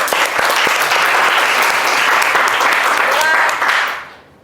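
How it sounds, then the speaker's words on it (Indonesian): Steady applause from a classroom group of students fills the room for about four seconds, dense and close, then fades quickly to quiet. "Tepuk tangan untuk semuanya."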